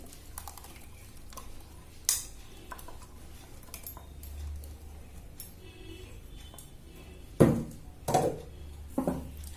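Onion and garlic paste is spooned into a pan, with a few scattered metallic taps and clunks of a spoon against the cookware amid quiet kitchen background.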